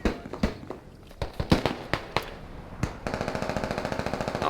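A grenade blast in the military shooter Squad lands amid sharp scattered gunfire cracks, followed by a steady rapid burst of automatic fire.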